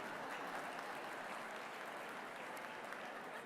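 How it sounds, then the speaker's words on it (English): Audience applause at a healthcare and AI conference, a steady, even wash of clapping held at a low, distant level throughout with no voices on top. "round of applause for those very few overachievers."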